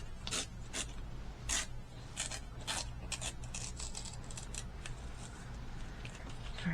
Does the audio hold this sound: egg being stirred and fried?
no